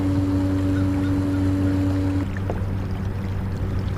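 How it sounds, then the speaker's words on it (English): An outboard Bixby motor on an Old Town Sportsman canoe at full throttle, a steady loud motor whine over rushing water from the wake, with the motor tone dropping partway through. "That's the wake on full throttle."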